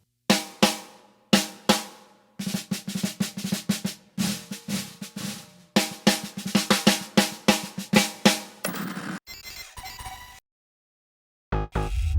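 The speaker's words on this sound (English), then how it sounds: "So right now, snare drum sounds like this." A snare drum fitted with concert snare wires struck repeatedly up close, sharp crisp hits with buzzy wire rattle, played in bursts of rolls and single strokes separated by short pauses.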